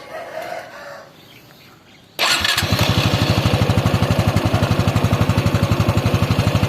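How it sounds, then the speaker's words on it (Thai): A Honda 110i motorcycle engine starts after an oil change and settles into a steady, loud, rapid idle as it warms up, following a quieter stretch where a rooster crows in the background. "วอร์มเครื่อง"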